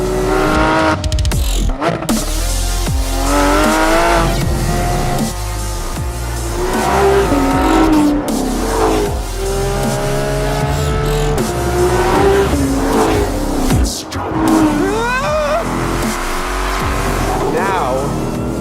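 A 2020 Ford Mustang Shelby GT500 races hard on a track: a loud, sustained engine roar rises and falls through gear changes, with squealing tires through the corners and talk running over it.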